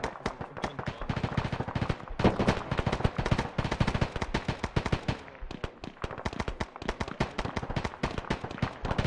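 Heavy gunfire during an ARMA military mission. Rapid, dense bursts of automatic fire and sharp shots, some close and loud and others farther off, keep coming without a break.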